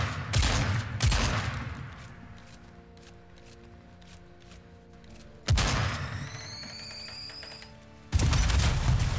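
Shotgun blasts and explosions sound in the Fortnite video game, with loud bursts at the start, a quieter stretch of lingering echoes in between, then another explosion with ringing debris and a final heavy blast.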